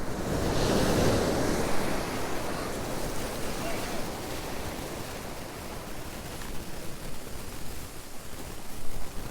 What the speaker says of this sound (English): These bloody waves coming in.